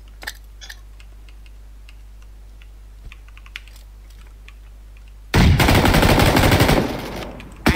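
Rapid gunfire bursts in the battle royale video game PUBG, loud and dense for a few seconds, following a stretch of quiet keyboard and mouse clicks over a low steady hum.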